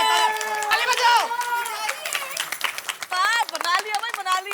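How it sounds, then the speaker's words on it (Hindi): An audience claps on a Hindi TV talk-show set, with scattered hand claps mixed under several loud, overlapping voices and cheering throughout. "ताली बजाओ।"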